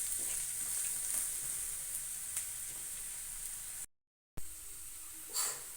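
Chickpeas, chana dal and urad dal frying in oil, giving a steady close hiss and sizzle with light stirring, a brief break, then the sizzle resumes.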